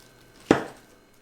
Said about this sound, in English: I'm going to cut it into fairly big pieces here